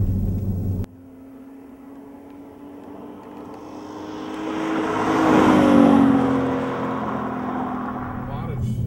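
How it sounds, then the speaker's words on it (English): An Audi S4 fitted with a Stasis exhaust drives past, its steady engine and exhaust tone swelling as it nears and fading as it pulls away, with a sharp sound at the very start. "they have done a tremendous job of tuning out annoying resonances in the exhaust while still dialing in a great tone"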